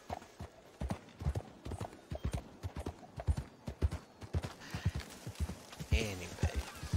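A horse in the video game Red Dead Redemption 2 gallops with a rapid, rhythmic clip-clop of hooves, close and prominent, while someone talks briefly over it and a horse whinny rises near the end.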